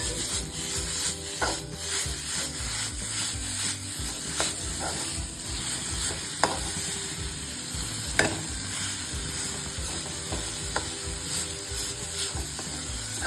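A spoon scrapes and stirs ground dates with dry fruits in a pan, a soft hiss running underneath with sharp clicks and knocks at irregular intervals, close and fairly quiet, with no talking.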